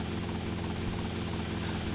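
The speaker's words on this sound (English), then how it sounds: "not as much of a pain as landing this helicopter where I'm going to try to land it" A helicopter in GTA Vice City gives off a steady, droning rotor and engine roar that holds evenly for the whole stretch, with no talking.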